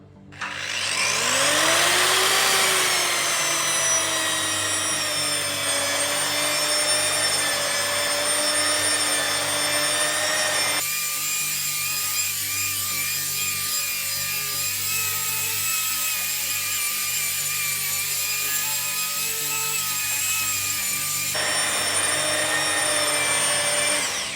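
A Vevor surface contour power tool scours old treated wood crusted with overspray and dirt, giving a loud, continuous motor whine with a grinding rasp that shifts in pitch as the wheel bites and eases off the surface. No one speaks.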